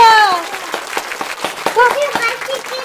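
Hands clap in a quick, uneven burst of sharp claps at a home kitchen, close and loud, mixed with excited voices of an adult and someone talking and cheering.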